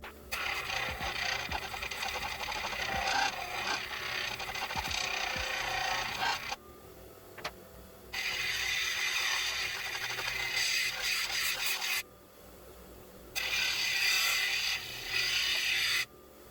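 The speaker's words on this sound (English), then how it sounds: "Just kind of doing a free form polish on this one." A polishing machine works freeform on an eye agate, a steady grinding whir with a scraping edge that runs continuously, cuts out briefly, then starts again several times.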